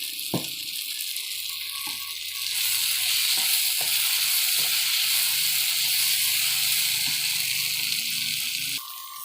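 Hilsa fish heads frying with taro stolons in a pan make a loud, steady sizzle close by, broken by a few soft knocks from a utensil.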